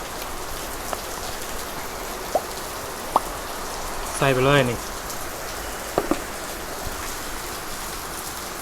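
Rain falls in a steady, even hiss on surfaces during an outdoor picnic around a gas-stove pork grill, with scattered louder drops and clicks and a brief spoken voice midway.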